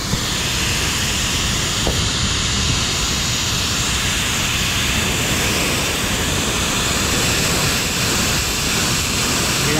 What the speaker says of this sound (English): Something right here is leaking. I can hear it because when I move that, it makes a noise.